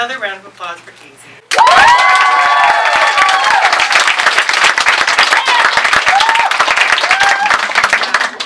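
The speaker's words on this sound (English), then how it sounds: "Another round of applause for Casey." Audience applause at a book event with author Casey McQuiston in Long Island City, bursting in loudly after a brief spoken line and continuing as dense sustained clapping with scattered whoops and cheers.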